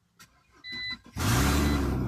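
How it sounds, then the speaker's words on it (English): A 2006 BMW X3 with catalytic converter faults chimes softly, the starter cranks briefly, then the engine catches and roars into a loud, steady idle. "I came in and I started the car,"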